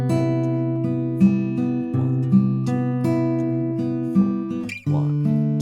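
Acoustic guitar fingerpicks a tutorial arrangement of a song, sounding alone with a steady picked pattern of plucked notes, sustained bass and ringing chords throughout.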